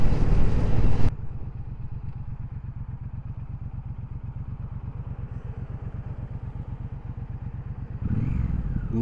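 A Triumph Speedmaster 1200 motorcycle engine chugs close by with a steady, deep, rapid exhaust pulse at cruising speed. Bursts of wind rush sit at the start and end.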